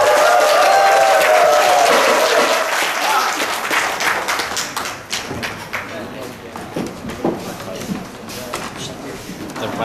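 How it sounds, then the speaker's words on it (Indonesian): A crowd claps and cheers loudly at first at a volunteer drummers' training graduation ceremony in Malaysia, then the applause thins into scattered, uneven claps that continue to the end. "Sila beri tepukan yang gemuruh kepada mereka sekalian."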